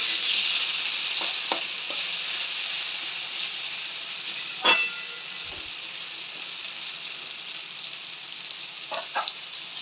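Food fries and is stirred in a pan at home, making a continuous hissing sizzle with occasional clinks and scrapes from the spoon, the loudest near the middle and end.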